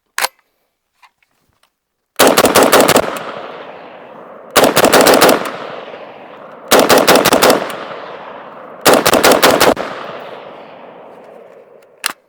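An SG36 rifle fires on automatic at an outdoor range in four loud, close bursts of rapid shots. Each burst leaves a long echoing decay, and a few isolated shots sound at the start.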